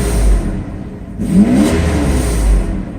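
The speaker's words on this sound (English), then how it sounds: "That's a slight tap on the gas, just barely pushing it, just like a millimeter." Mercedes SL600 V12 engine given a slight tap on the throttle, a low idle rising briefly into a short rev and settling back, close and fairly loud.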